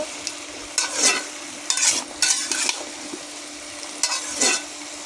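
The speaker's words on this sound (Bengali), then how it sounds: "আলু বেগুন আমি একটু লাল লাল করে ভেজে নেব" Potatoes and eggplant fry in a pan under a soft continuous sizzle, broken by several bursts of scraping as a spoon stirs them at close range; no one speaks.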